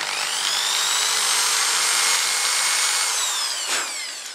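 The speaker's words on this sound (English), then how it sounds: "we need to just drill in very lightly" A power drill bores lightly into a guitar headstock to fit an in-line machine head, a steady high whine running close and loud for about four seconds before tapering off near the end.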